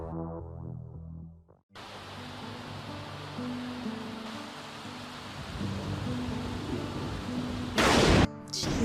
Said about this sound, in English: Jeez, that rain came out of nowhere.